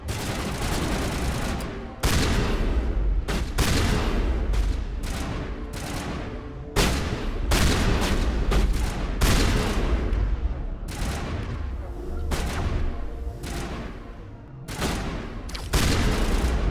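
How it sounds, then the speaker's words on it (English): Shotgun blasts in the Mass Effect video game, loud heavy booms fired one after another at an uneven pace, each with a sharp attack and a short decaying tail, heard alone without voices. "Let's try the shotgun."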